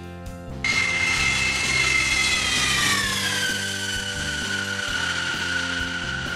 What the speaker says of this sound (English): The Lockheed C-5 Super Galaxy is the largest military transport aircraft in the U.S. Air Force